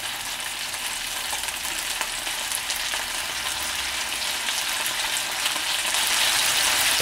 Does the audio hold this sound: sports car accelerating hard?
no